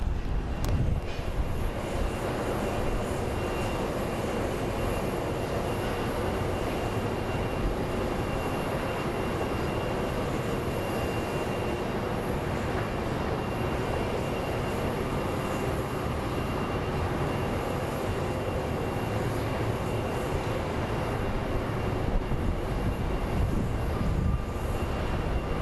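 Continuous broadband rumble and whine of an airliner being pushed back from the gate at Phoenix Sky Harbor airport, steady and fairly loud throughout with no talking.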